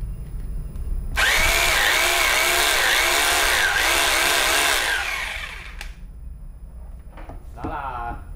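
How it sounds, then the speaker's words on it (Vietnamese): A HUSPANDA 2801 rotary hammer drill switched to chisel mode runs loud and steady for about four seconds, its pulsing hammering buzz filling the space, then cuts off and winds down, followed by a few faint clicks and a person talking. "và chế độ đục."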